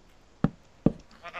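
Two short, sharp sheep bleats from Minecraft come close together, each abrupt and punchy, with a faint murmur of voices trailing at the end.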